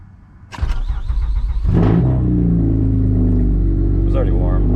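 A boosted, already warm Acura TL Type-S starts up close by: a short cranking burst, then the engine catches into a loud, steady rumbling idle. A voice speaks briefly over it.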